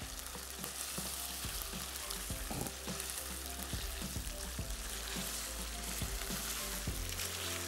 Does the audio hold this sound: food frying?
yes